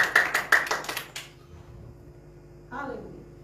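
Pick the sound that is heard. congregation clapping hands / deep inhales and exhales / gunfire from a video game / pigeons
congregation clapping hands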